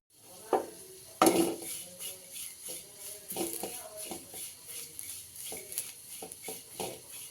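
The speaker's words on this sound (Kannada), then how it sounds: "ಸೊ ಇವಾಗಿದು ಚೆನ್ನಾಗಿ ಫ್ರೈ ಆಗಬೇಕು. ನಿಧಾನವಾಗಿ ಒಂದು 4 ನಿಮಿಷ ಫ್ರೈ ಮಾಡಬೇಕು." Curry leaves fry gently in a pan over low flame, with soft sizzling under intermittent clinks and scrapes of a utensil stirring against the pan.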